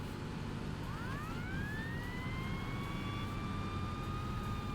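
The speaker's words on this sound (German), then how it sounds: "Schaut die Sirene aus." A fire truck siren in Fire Fighting Simulator: Ignite rises in a long upward wail and then holds a high steady tone, over a continuous engine and road rumble, with no voices.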